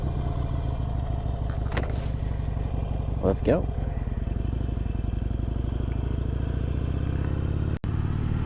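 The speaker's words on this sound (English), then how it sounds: "So see, just hit that on button, start the engine" A Harley-Davidson Iron 883 motorcycle engine starts and idles with a steady, close, throbbing rumble, while a voice speaks briefly over it and wind buffets a helmet-mounted camera.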